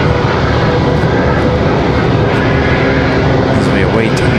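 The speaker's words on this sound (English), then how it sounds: "that A220-300" A Delta Airbus A220-300 airliner departs Raleigh-Durham airport for Boston, its engines giving a loud, steady roar under people talking.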